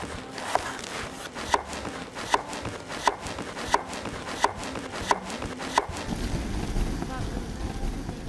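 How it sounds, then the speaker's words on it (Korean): A knife thinly slices a potato on a board in steady, evenly spaced strokes, about eight cuts, then stops, leaving a soft background hiss. "먼저 감자를 얄팍하게 썰어주고요."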